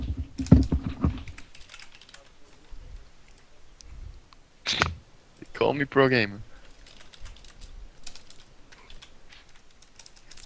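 Rapid clattering keystrokes and clicks from a faulty computer keyboard during a game of Dota 2 come in irregular bursts, close and fairly loud. Someone talks between the flurries.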